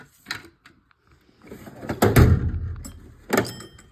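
A toolbox ratchet drawer is pulled open in a few rough bursts, a quiet clack followed by a louder sliding rumble and a final clunk, all close by.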